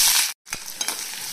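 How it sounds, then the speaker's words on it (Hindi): Chopped onions and green chillies hit hot oil with mustard seeds and curry leaves, giving a loud, steady crackling sizzle, broken by a brief gap, then stirring scrapes over continued frying. "कटे हुए प्याज, हरी मिर्च डालेंगे"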